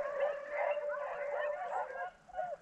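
Hunting dogs on a rabbit hunt give a chorus of overlapping yips, bays and whining howls, fairly close and continuous, with voices faintly underneath.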